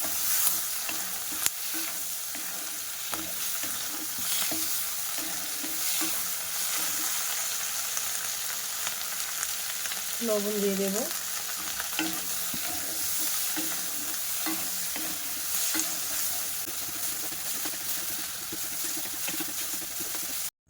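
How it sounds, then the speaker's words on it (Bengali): Capsicum and tomatoes sizzle and fry in butter in a pan with occasional stirring scrapes, while a voice speaks briefly over the cooking. "এবার আমি ওর মধ্যে ক্যাপসিকাম আর যে টমেটোটা কেটে রেখেছিলাম ওগুলো একটু হালকা ভাজা ভাজা করে নেব"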